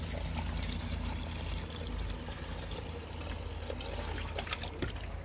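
Water drains through a gravity-fed pipe system at a pond, a steady close pouring and trickling rush that runs unbroken for several seconds without speech.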